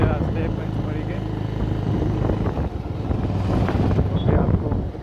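A Bajaj Avenger motorbike ridden along hill roads toward Pachmarhi, with steady wind buffeting the microphone and a low rumble running through the whole ride.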